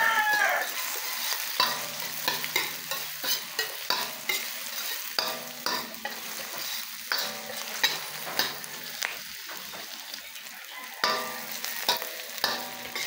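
Garlic and sliced white onion sauté in a pan for chayote with shrimp, a steady close sizzle broken by repeated scraping strokes of a spatula stirring through the pan.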